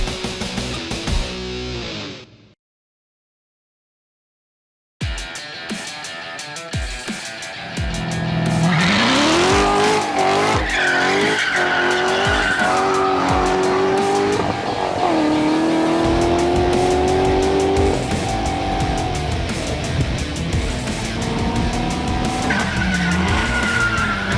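A 2016 Chevrolet Corvette Z06 skids with loud, sustained tire squeals over a roaring, revving engine, near and continuous after a brief silent gap.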